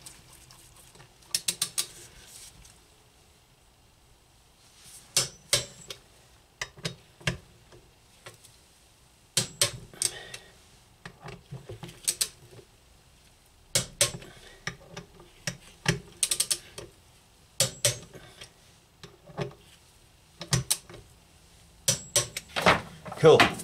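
A torque wrench ratcheting as brake disc bolts on a Triumph Tiger 800 motorcycle are tightened in turn, with repeated short bursts of close clicking separated by pauses.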